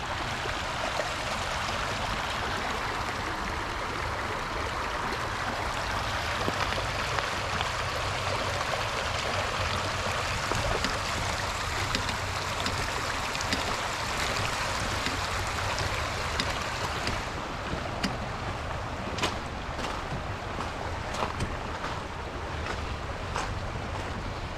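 A rain-swollen river where salmon swim, rushing in a constant broadband roar that stays loud and steady throughout, with light dripping or patter in the later part.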